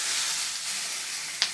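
Pieces of fish and a fish head go into hot oil in a pan for a spinach dish, giving a steady close sizzle and hiss that ends with one sharp clink.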